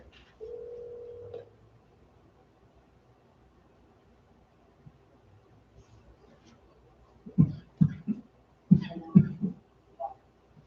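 A desk or conference phone dials into a meeting call: a steady dial tone at first, then a quiet pause, then a cluster of short beeps and clicks near the end, with no one talking.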